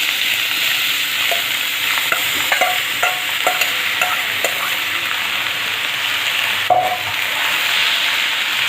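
Pulses frying in hot oil with mustard seeds spluttering, a steady close sizzle broken by sharp irregular pops and crackles throughout, with no voices.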